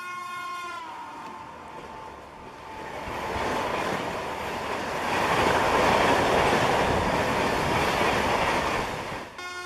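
A Vande Bharat train on the Mumbai–Ahmedabad route rumbles past at close range, opening with a horn blast, then a steady roar and clatter of wheels that swells and fades.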